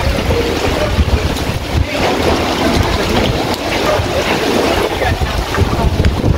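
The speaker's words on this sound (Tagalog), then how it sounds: "lakas ng hangin." Strong wind on a street roars steadily into the microphone, a constant loud rushing buffet with no pauses, mixed with rain and water sounds.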